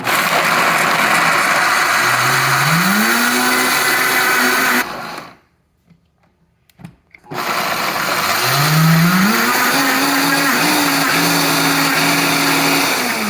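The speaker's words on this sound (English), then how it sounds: "Now they are ready to be blended in the Vitamix jar." A Vitamix blender grinds nuts, seeds and spices with a loud, whining motor that rises in pitch as it spins up, cuts off briefly, then restarts and ramps up again.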